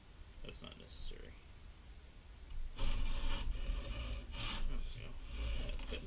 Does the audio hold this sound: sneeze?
no